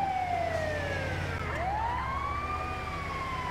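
Ambulance siren in Grand Theft Auto V, a loud wailing tone sweeping down and back up, steady and close over a low engine and traffic rumble, with no one speaking.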